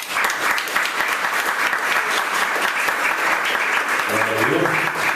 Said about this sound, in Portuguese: Aplauda Senhor, em nome de Jesus.